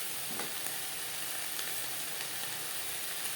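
Chopped banana stem fries in a pan over a high-to-medium gas flame with black cumin and green chilli, giving a steady, close sizzle with faint stirring scrapes.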